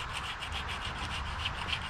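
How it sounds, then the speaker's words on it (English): Steady rhythmic scraping of a metal broach cutting out a dagger handle slot, repeated strokes in quick succession, close and continuous with no talking. "I'm going to take this around and hit it with the broach."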